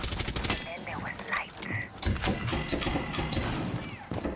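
Rapid bursts of gunfire in Rainbow Six Siege, with heavy recoil: dense cracking shots in quick succession mixed with mechanical clatter, loud and close, with brief voice activity between.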